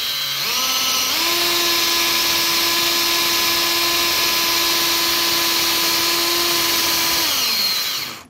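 A power drill reams out a cork fishing rod handle, a loud steady whine that spins up, holds an even pitch for several seconds, then winds down.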